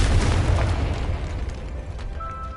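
Confringo spell explosion from a Harry Potter video game: one loud, close blast at the start that rumbles heavily and then fades over two seconds, ending with a faint ringing tone.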